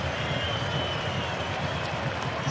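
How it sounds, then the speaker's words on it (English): A stadium crowd applauding a France player at a football match, a broad steady wash of clapping and crowd noise heard from a distance, even in level throughout. "Soaking up the applause"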